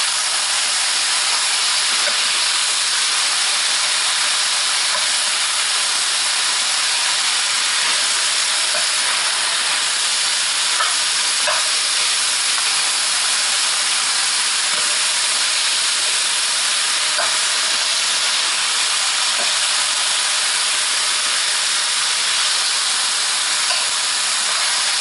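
Fresh vegetables for a beef and broccoli stir fry sizzle in hot oil with a steady, loud, broadband hiss and faint crackling pops throughout, no voices over it.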